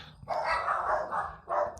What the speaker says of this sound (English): maybe the dogs will bark